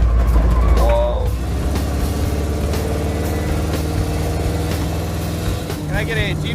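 A car engine drones steadily at moderate revs while driving, loud and close with a constant low hum and rumble, and brief voices breaking in near the start and end.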